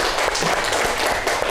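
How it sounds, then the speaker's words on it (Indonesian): Classroom applause for a student group, a short dense burst of many hands clapping together in a room, with a few voices mixed in. "Tepuk tangan lu untuk kelompok ini."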